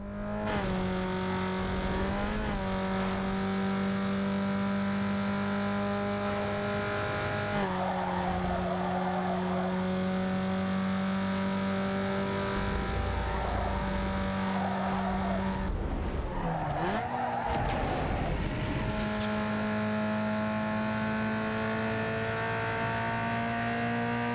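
A Toyota Corolla races in Need for Speed Underground 2, its engine holding a steady droning pitch for the whole stretch, with a few brief pitch dips and bursts of tyre skidding in the corners.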